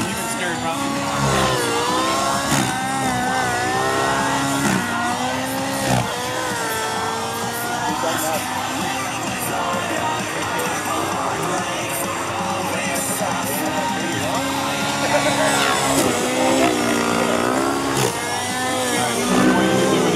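A nitro-powered Align Trex 700 RC helicopter flies at an outdoor event, its engine and rotors giving a steady, loud buzzing whine that rises and falls in pitch as it maneuvers, with a commentator talking over it throughout.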